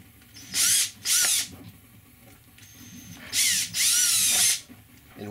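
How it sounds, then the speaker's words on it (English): A power drill bores holes into a plastic IKEA Samla storage box in four loud, close bursts, two short ones, a pause, then two longer ones, with quiet handling noise between them. "now we can drill"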